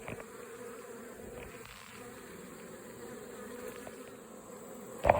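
Feral honeybees buzz steadily around a hive in a hollow tree outdoors, a soft continuous drone with no talk, a brief louder knock at the very end.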